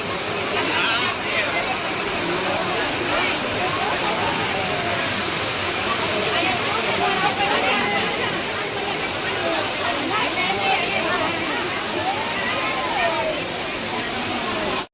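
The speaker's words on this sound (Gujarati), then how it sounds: "હવે વરસાદ ચાલુ છે" Heavy rain pours down near a waterfall at a Khodiyar Mata temple, a dense, continuous rushing wash of water that stays loud and steady for the full stretch, with faint voices mixed into the roar.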